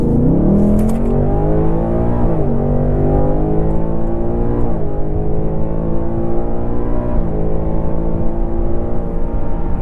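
A 2024 Ford Mustang GT with a 10-speed automatic accelerates hard, its loud engine note climbing steadily through several rising sweeps with brief drops at each upshift, close and continuous, with a short burst of tire noise at the start.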